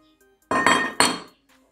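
The heavy all-metal packaging box of a Kall K60 flip phone gives two sharp, close metallic clinks in quick succession, then falls quiet.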